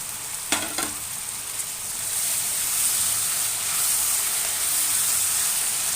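Onions and tomato fry in a pan for avarebele upma, starting with a couple of close clinks and then settling into a continuous bright sizzle that holds steady to the end.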